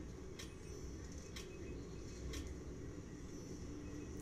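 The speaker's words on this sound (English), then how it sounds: "And here comes the other train." Train pulling into a station in the video game Overcrowd, a low continuous rumble with a few brief bright clanks or squeals spaced through it, moderately faint and without speech.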